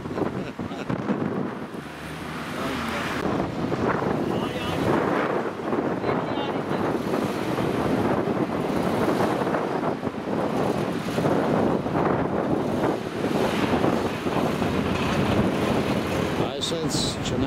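Stormy wind gusts across Shahumyan Square in Yerevan, a loud buffeting roar on the microphone lasting throughout, with people talking underneath.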